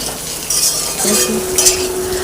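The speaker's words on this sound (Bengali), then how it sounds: "মাংসের আলুটাকে ভাজতে দিয়েছি এখানে ভালো করে লাল লাল করে ভাজ ভেজে নেবো আলুটা" Potatoes for a meat curry frying in a pan, a soft steady sizzle with a spatula scraping and stirring through it, close and fairly loud over a couple of seconds.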